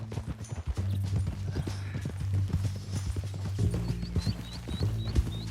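Horse hooves clip-clop steadily in Red Dead Redemption II, a rhythmic trot close by under a low musical drone, with a brief whinny-like chirp near the end.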